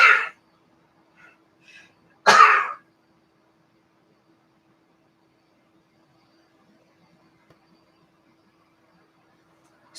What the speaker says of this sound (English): kind of a dry sneeze